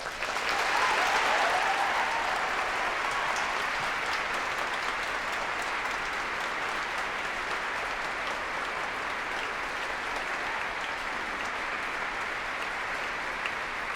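Sustained applause from a graduation audience at the National Cathedral School, welcoming the commencement speaker; steady, dense clapping from a large crowd that swells briefly at the start, then holds evenly throughout.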